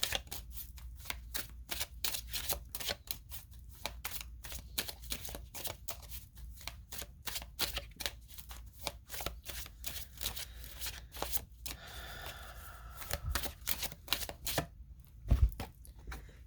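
A deck of oracle cards being shuffled over and over, a rapid run of crisp riffling flutters and snaps in close, quiet succession, ending with a couple of louder taps as the deck settles.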